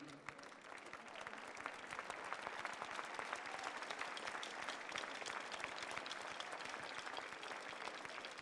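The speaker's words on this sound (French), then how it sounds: "Alors bien les applaudir" Sustained, dense applause from a large crowd at the Coupe du Monde de la Pâtisserie prize-giving ceremony, steady and continuous from start to finish, heard from a distance.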